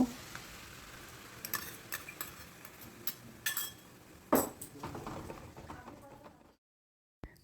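Thin liquid spice paste hits a hot pan in a potato dish and frying starts. The sizzle comes with stirring scrapes and clatter, then a clear burst, and ends in sudden silence.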